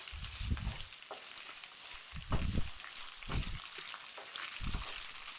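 Dried red chilies and curry leaves fry in hot oil for tamarind rice, giving a steady soft sizzle with a few louder crackling spurts. The sizzle is fairly quiet and close, and no voice is heard over it.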